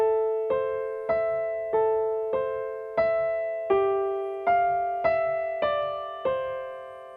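Ten piano chords are struck one after another at a steady, unhurried pace, each ringing briefly before the next, stepping gradually downward.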